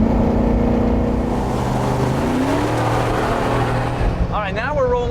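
A 1988 K5 engine drones steadily as it speeds up on a road, heard from inside the cab, with a voice speaking near the end.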